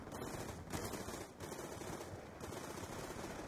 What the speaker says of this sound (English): And why exactly are you shooting at me?